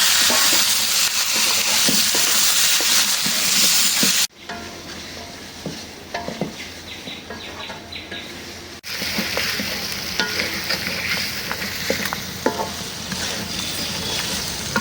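Chicken pieces fry with onions for a spicy Bengali jhal kosha, producing a loud, steady sizzle with intermittent stirring scrapes across several cuts.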